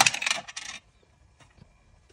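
A real die dropped through a dice tower, rattling and clattering loudly in a quick burst of hard knocks that stops abruptly, then near silence with a couple of faint taps.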